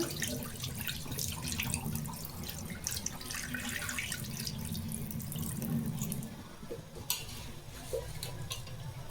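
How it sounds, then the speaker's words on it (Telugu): Water runs and splashes steadily into a vessel of washed rice for several seconds, with faint dripping and clinks as it settles. "బియ్యం కడిగి పెట్టుకున్నాను నీళ్ళు వేసుకోవాలి శుభ్రంగా"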